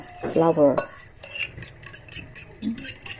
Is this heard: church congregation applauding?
no